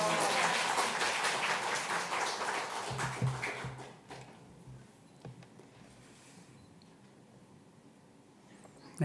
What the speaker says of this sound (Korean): 나올 때 큰 박수로 할렐루야를 맞이합니다